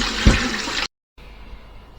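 Water pouring and sloshing in a rinse for black and white film development, loud and broadband for under a second, then a brief silence and a quieter trickling wash.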